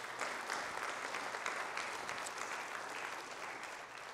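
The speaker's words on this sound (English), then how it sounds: "So please give the Lord a round of applause." Sustained, even applause fills the room as a Sunday service congregation claps together, dense and continuous from start to finish.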